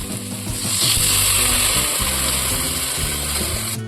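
Water being added to fried potatoes browning with spices in hot oil, a loud burst of hissing sizzle and crackle that swells and then settles, heard up close and alone.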